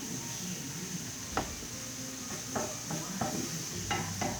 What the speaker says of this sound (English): this pan's a little small, so keep moving everything around